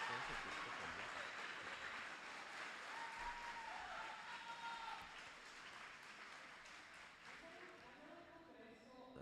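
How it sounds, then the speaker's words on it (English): Faint applause from an audience at the opening ceremony of a congress, a soft wash of clapping that gradually fades, with a voice briefly audible over it. "Thank you very much. An applause."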